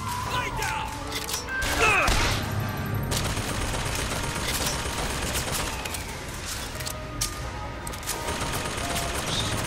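Turret gunfire in Bioshock Infinite rattles in rapid bursts at moderate distance, with sharp impacts and clanks scattered through the scene and some talking over it.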